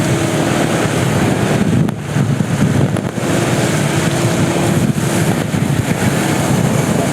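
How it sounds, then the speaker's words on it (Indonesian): Strong wind roars continuously through a wet boat race, a broad steady rush buffeting the microphone alongside a motorboat engine hum and water, loud and unbroken throughout. "Anginnya sangat kuat sekali ini."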